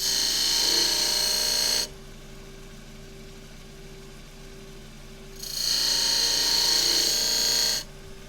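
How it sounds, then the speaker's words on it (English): A skew chisel's long point cuts a chamfer on an endgrain box of scrap wood turning on a lathe, two bursts of bright, hissing cutting noise over the steady hum of the running machine, with a quieter pause between them. "I'll do that now and see if that takes care of it, using the long point of the skew chisel."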